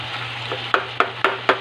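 Hotdog browning in a pan alongside a sautéed mixture, with a soft frying hiss under four evenly spaced clicks of a utensil stirring against the pan, close and fairly quiet.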